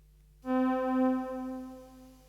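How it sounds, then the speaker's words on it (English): A single sustained synthesizer note swells in after a short silence, warm and buzzy with a gently pulsing low tone, then slowly fades. "This was just me checking a synth, but it happened to be great."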